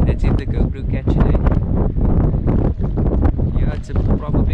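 Cold evening wind blows hard across a microphone on a boat while squid fishing off Simon's Town, a loud continuous low rumble with voices talking over it.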